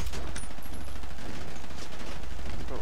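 A dense, continuous rattle of gunfire from a gang war in GTA 5, with pistol and automatic shots blending into a loud steady barrage and a brief high whine on top.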